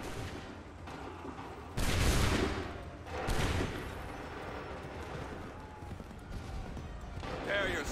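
Volleys of musket fire crack out in Assassin's Creed III, two loud bursts rising above a continuous din of battle, with voices talking throughout.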